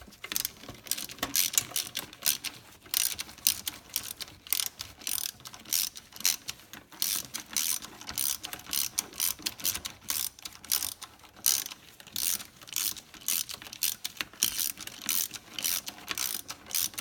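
A ratchet tightens the valve cover bolts on a 1999 Ford Explorer 4.0 SOHC, with rapid close clicking in repeated bursts and short pauses between strokes, alone without talk.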